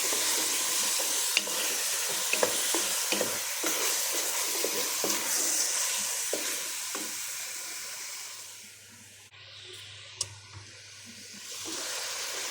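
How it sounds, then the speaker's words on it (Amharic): Chicken fries in a pan with a continuous, fairly loud sizzle and hiss, broken by the scrape and tap of stirring; the frying quiets briefly near the end before sizzling again. "በጣም መጥበስ ነው ያለብን።"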